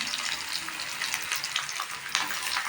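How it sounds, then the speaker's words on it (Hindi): Chopped onions sizzle and crackle steadily in hot oil in a pan, a dense close frying hiss that holds throughout with small bursts of spatter. "तो सबसे पहले मैं उसमें तेल गर्म होने के बाद मैं उसमें प्याज डालूँगी"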